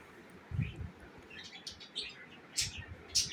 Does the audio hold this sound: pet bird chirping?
yes